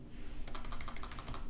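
A quick burst of typing on a computer keyboard, about a dozen light, rapid key clicks in close succession over a faint background hum, close and fairly quiet.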